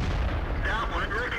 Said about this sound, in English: yes, that was a strange ricochet